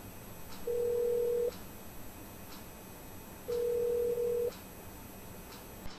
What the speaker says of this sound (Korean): 휴대전화에 전화를 거는 중입니다